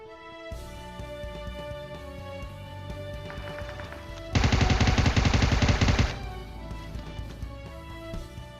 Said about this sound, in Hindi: खिड़की पे गोलियां पड़ने लगी